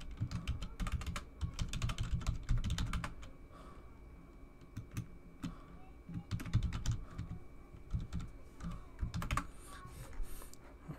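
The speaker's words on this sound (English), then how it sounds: "So you have to click sign in again, enter the password." A password is typed on a computer keyboard in quick bursts of soft, close key clicks, pausing briefly before another flurry of taps.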